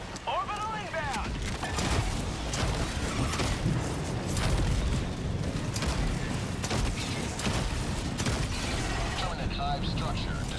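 Orbital strikes in the Helldivers 2 battle boom and rumble under a dense layer of gunfire and mechanical clatter, with players talking over the continuous noise.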